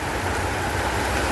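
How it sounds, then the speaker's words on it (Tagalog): Heavy rain pouring steadily outdoors, a dense constant hiss at close range with no break, while motorbikes and road traffic are out in the downpour. "Grabe ang ulan."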